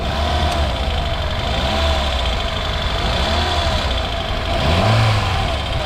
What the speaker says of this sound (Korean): 엔진 소음을 한번 들어보시라는 겁니다